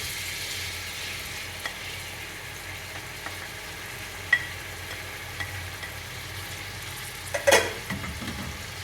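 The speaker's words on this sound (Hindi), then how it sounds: "टमाटरों को भुनेंगे आप।" Chopped tomatoes frying in a pan with ginger garlic paste for a chicken and tinda curry, a steady close sizzle with a few soft clinks and a brief scrape of stirring near the end.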